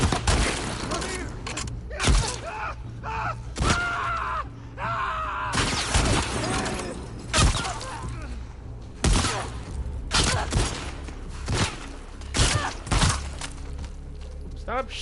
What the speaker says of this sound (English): Stop shooting me from behind